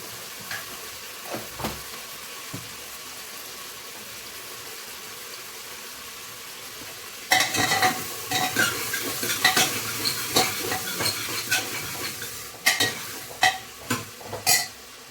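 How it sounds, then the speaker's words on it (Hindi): Vegetables with turmeric fry in a pan, a quiet sizzle with occasional taps that turns abruptly into loud, close stirring, with a spoon scraping and clattering against the pan in busy bursts. "इसमें डालूंगी पहले मैं हल्दी, हल्दी साथ के साथ भून जाएगी"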